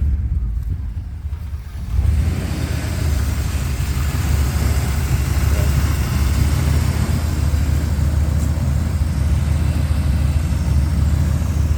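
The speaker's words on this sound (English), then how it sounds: "the little motor actually does run good in the truck" A 1988 Chevy OBS truck's small engine, fitted with a worn 700R transmission, runs steadily at idle with a continuous low rumble after a quieter opening, close and alone.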